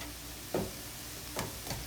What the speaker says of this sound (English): I'm just going to mix this all together